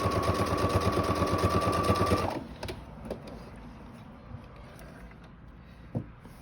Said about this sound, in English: I'm just going to do a top stitch right over the opening, and I'm just getting as close to the edge as possible.